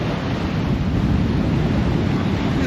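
Ocean surf on a Punta Cana beach at sunrise makes a continuous broadband wash, close and fairly loud, mixed with wind buffeting the microphone.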